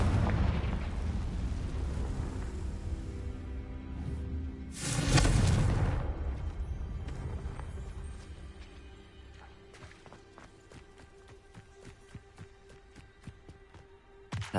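A Confringo blasting spell goes off in the video game Hogwarts Legacy as a loud, booming explosion that rumbles for about a second. Rougher noise comes before it, and scattered sharp crackles and ticks follow as it fades.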